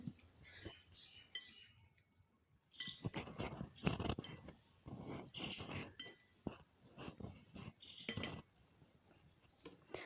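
Chopped fruits stirred in a bowl with a spoon, giving a series of light clinks and taps against the bowl in irregular bursts, close and fairly quiet, with no talking.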